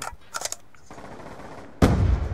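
Gunfire from a SWAT rifle in the video game Black Ops 2 during a team deathmatch on the Standoff map: a few sharp shots early, then a loud closer burst at the end.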